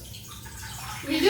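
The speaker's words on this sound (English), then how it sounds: "we will be adding some water" Water is poured into a pan for boiling Maggi noodles, a soft hiss that swells into a louder rushing splash at the end, close by.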